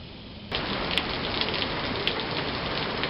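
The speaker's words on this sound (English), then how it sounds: "the rains came in earnest just about the time we're finished cooking our peppers" Rain starts falling suddenly, a dense steady patter on surfaces nearby, with a few sharper drops standing out against the wash of noise.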